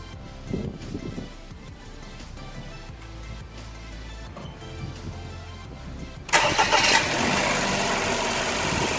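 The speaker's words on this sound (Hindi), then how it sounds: "अब आप गाड़ी स्टार्ट कर देखते हैं।" Handling noises come first, then a car engine with battery-test clamps attached cranks and catches, settling into a loud, steady idle close by.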